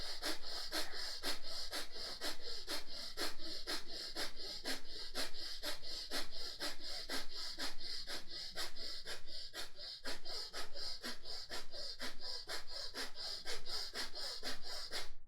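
Quick, forceful breathing in and out through the right nostril, with the left nostril closed by the thumb, during a breathing exercise. The breaths are close and loud, in a steady rapid rhythm that runs the whole time with no talk.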